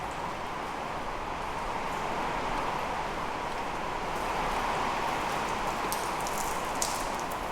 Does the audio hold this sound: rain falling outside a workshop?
yes